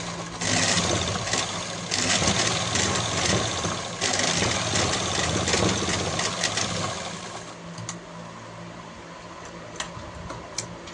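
A sewing machine runs steadily, stitching along the edge of a salwar seam, a close, continuous mechanical whir with rapid ticking that drops quieter after a few seconds and carries on alone.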